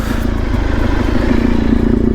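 A Honda VFR400R NC30 motorcycle engine idles close by with a steady, even, rumbling patter throughout and no talking.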